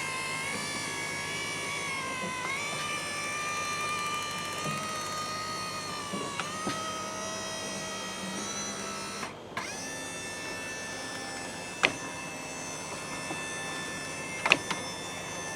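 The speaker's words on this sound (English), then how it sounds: "Listen to the motor, how it struggles." Carefree RV awning motor straining against a binding awning head, a steady electric whine with harmonic tones that dip and recover, plus a few sharp clicks and clunks as the mechanism catches.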